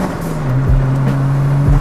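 Turbocharged ninth-generation Toyota Corolla Altis accelerating hard, a steady close engine drone with rising and shifting tones, loud and continuous without talk.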